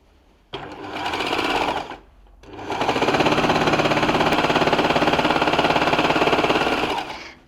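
A baby lock Enlighten overlocker stitches thick fleece in a fast whirring rattle, running briefly, pausing a moment, then running steadily for several seconds before stopping, close and loud.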